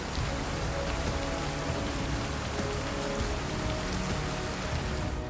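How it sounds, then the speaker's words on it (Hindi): Steady rain pours down with a dense, continuous hiss of drops striking surfaces, even and unbroken throughout, with no voices. "बारिश शुरू हो गई।"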